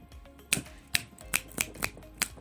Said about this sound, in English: You wanted a round of applause. I'll give you snaps.